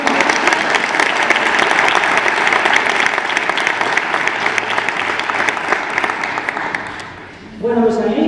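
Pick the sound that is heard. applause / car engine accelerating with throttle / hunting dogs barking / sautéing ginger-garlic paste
applause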